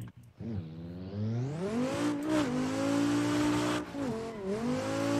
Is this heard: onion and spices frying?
no